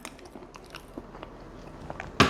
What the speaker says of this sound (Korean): 넣고 겉절이랑 같이 먹어보겠습니다.